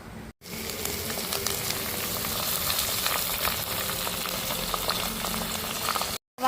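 Curry leaves hit hot oil in a pan and set off a loud, steady sizzle that crackles nonstop for about six seconds, with short quiet breaks at the start and end.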